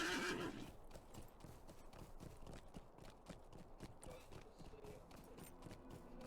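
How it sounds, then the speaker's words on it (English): Steady clip-clop of a horse's hooves at a canter in the Lord of the Rings Online game, with a whinny at the start, close and continuous under low background sound. "Get on our horse and head back to Tinadir"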